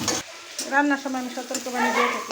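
Chopped onion sizzles in a hot pan as chicken and vegetables are cooked, a steady frying hiss with bursts of stirring, while a voice talks over much of it.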